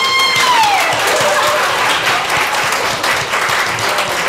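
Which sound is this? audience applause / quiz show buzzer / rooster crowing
audience applause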